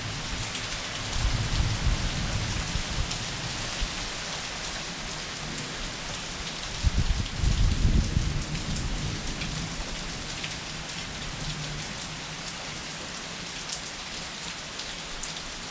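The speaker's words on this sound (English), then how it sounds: "I see this rain, a thunderstorm passing through." Steady rain pours onto surfaces in a backyard during a passing thunderstorm, a dense continuous patter with low rumbling swells of thunder near the start and around the middle, with no voices.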